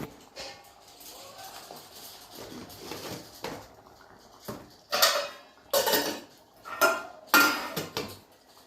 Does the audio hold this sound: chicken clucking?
no